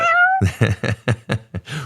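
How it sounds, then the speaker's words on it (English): A studio cat gives a short high meow, followed by a run of rhythmic thumps or clipped bursts, close and loud in a quiet room. "You hear us refer to Carly, the studio cat, who was out and prowling earlier."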